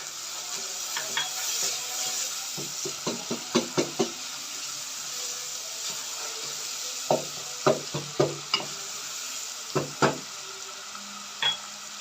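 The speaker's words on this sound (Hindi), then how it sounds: "थोड़ा सा इधर पानी डालते जाएंगे और मसाले को भूनते जाएंगे।" Spice masala of red chilli powder, salt and turmeric roasts in a pan with splashes of water for aloo matar, a soft sizzle under repeated scraping and stirring strokes of a spoon.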